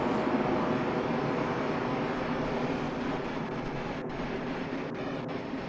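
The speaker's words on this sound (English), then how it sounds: "With a Ryanair 737 departing there" Ryanair Boeing 737 departing Manchester Airport, a steady distant jet roar with a broad rushing rumble that stays even and sustained throughout.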